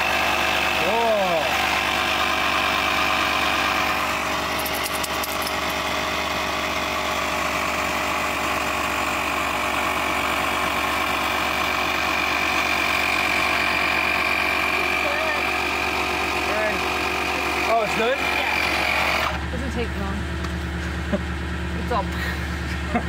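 Electric pump inflating tires outdoors at San Lorenzo Canyon, a steady close droning buzz with a constant motor whine that runs almost the whole time, then cuts off near the end, with people talking over it.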